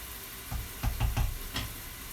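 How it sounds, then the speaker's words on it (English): Dal being stirred in a pot as it comes to the boil, a few soft knocks and scrapes of the spoon against the pot over a quiet simmering hiss. "the dal's coming to the boil, so I'm turning that down. Giving it a stir."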